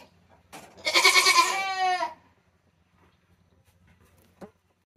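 A goat at milking time gives one loud, close, wavering bleat lasting about a second, followed by near silence with a faint knock.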